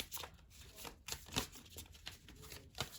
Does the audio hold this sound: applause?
no